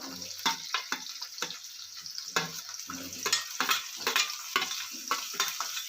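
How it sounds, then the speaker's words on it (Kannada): Spices, onion, garlic, cinnamon, clove and tomato frying in oil for a toor dal sambar, with a steady soft sizzle broken by repeated scraping stirs of a spoon in the pan, close by. "ಮಸಾಲೆನ ಆಯಿಲಲ್ಲಿ ಚೆನ್ನಾಗಿ ಫ್ರೈ ಆಗಿದೆ"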